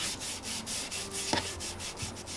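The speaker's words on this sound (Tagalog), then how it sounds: "pupunasan ulit natin siya ng wet wipes para matanggal yung oil" An alloy motorcycle top box is wiped down with wet wipes to remove oil, producing a close, steady rubbing swish in rhythmic strokes, with a small knock partway through and no speech.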